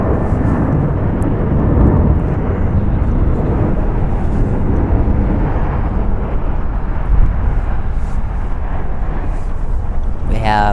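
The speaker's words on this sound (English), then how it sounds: "It's going to be departing to Georgetown. It's a Boeing 737 MAX 8, 4 years old." A Boeing 737 MAX 8 departs LAX. Its jet engines make a steady, loud, broadband roar that holds for the whole stretch, with a faint rising whine near the end.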